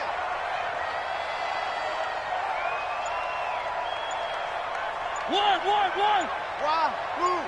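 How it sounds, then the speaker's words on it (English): A stadium crowd roaring in a PS4 American football game before a big third down, a sustained wash of noise, with a commentator's voice rising over it toward the end. "The crowd getting into it as we come up on a big 3rd down."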